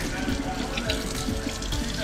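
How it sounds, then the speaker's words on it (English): Running tap water pours steadily over freshly caught trout being rinsed in a sink, a continuous close splashing wash with a faint voice underneath. "I am going to rinse them off first"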